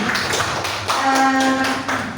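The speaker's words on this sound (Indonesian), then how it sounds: "terima kasih tepuk tangan untuk kita semuanya" Elementary school classmates clap together in a classroom, a steady rhythmic patter of many hands with faint voices mixed through it.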